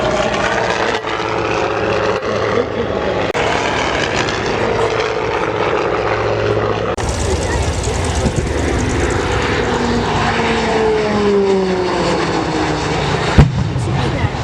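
A propeller airplane drones steadily overhead at the Oshkosh airshow, its engine pitch shifting as it passes, with a continuous crowd and wind background and occasional voices.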